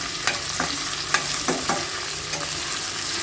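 Onions sautéing in a pan for chicken curry, a steady sizzle broken by several light scraping stir strokes at irregular intervals, close and moderately loud.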